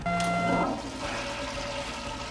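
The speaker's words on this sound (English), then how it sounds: "Clogged toilet. To unclog, press the orange button." A toilet is flushed to clear a clog, giving a short rushing gush of water that tails off into a softer draining swirl, heard alone and close by after a brief electronic tone.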